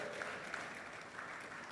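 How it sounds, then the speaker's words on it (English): Faint, steady applause from a summit audience as a businesswoman walks onto the stage, an even wash of distant clapping with no distinct individual claps. "A round of applause for her as she takes the stage"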